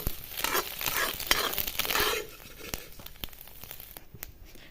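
Frying eggs are stirred in a wok with a rough, scraping sizzle for a couple of seconds, then quieter hissing punctuated by sharp clicks of a spatula against the metal.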